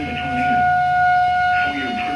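Tornado sirens sound outside as a steady, sustained wail that holds an even pitch across the whole stretch, with someone talking over it.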